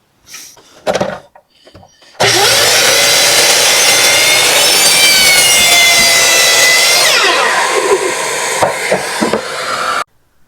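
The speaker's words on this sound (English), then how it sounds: "We're gonna get this cut at the miter saw." A miter saw cuts through a wooden board with a loud, close, continuous whine lasting about eight seconds, with handling knocks before and a few clicks after the cut.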